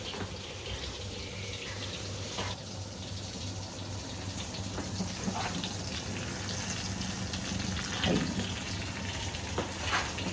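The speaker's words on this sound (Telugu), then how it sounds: "ఫస్ట్ ఈ 2 క్యూబ్స్ మనం ఈ ఫిష్ మొత్తం ఫ్రై చేసుకోవాలి." Fish pieces pan-frying in butter over medium flame, a continuous close crackling sizzle with occasional pops and spatters, steady and moderately loud throughout.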